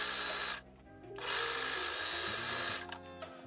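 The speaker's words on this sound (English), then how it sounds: "continue sewing all the way down the leg" A sewing machine stitches a leggings leg seam, its motor whirring in steady loud runs with a brief pause and a short slowdown near the end.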